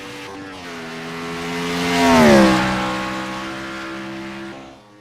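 A NASCAR V8 race car revs hard on a road course, climbing close to 10,000 RPM in one loud rising howl that peaks mid-clip and then settles into a steady high drone, heard alone.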